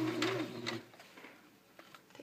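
A sewing machine stitching a pant hem gives a short, close mechanical whir with ticking needle strokes, then drops to faint, sparse clicks.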